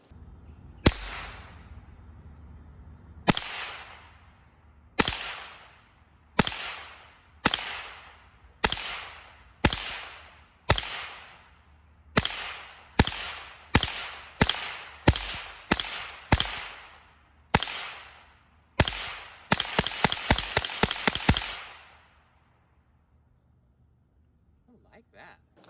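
A Rossi RS22 .22 rifle fires at the range: about twenty sharp, loud cracks, spaced shots with short echoing tails, ending in a fast rapid-fire string before quiet.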